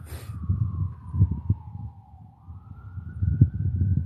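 An ambulance siren wails steadily in the distance, its pitch sliding down then rising again, over a low rumble of passing traffic.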